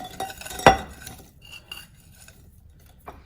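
Spoon clinks and scrapes against a bowl while sugars are creamed into browned butter, with one sharp louder clink early on and softer scraping after.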